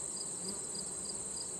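Honey bees hum in a continuous, steady buzz at the entrance of a swarm trap in late season, close and evenly loud with no voices over it.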